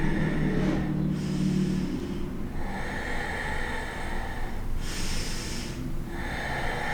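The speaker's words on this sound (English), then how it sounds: "Exhale, warrior 2. Open arms and hips. Take 3 breaths here." Deep, steady breaths drawn in and pushed out while holding a warrior 2 yoga pose in a morning flow session, several slow inhale-exhale cycles, close and fairly loud, breathy with a slightly nasal, snorting edge, no talking.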